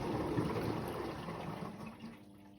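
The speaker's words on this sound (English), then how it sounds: "it's going to dump water from the container into the condenser" Water gushes and splashes briefly inside a Bosch HomeProfessional dryer as it dumps water from its container into the condenser, a rushing pour that fades over a couple of seconds, fairly quiet with no voices.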